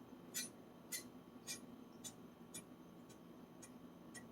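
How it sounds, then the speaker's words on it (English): A thumb dragged sideways across a freshly whetstone-sharpened knife edge gives eight faint, evenly spaced scratchy ticks about half a second apart over a soft background hiss. "That is the sound of a crisp and toothy edge."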